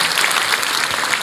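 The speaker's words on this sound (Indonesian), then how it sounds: "Berikan tepuk tangan kita untuk Tuhan kita." A church congregation applauds in praise of God, a dense, steady burst of many hands clapping together that fills the room for a moment.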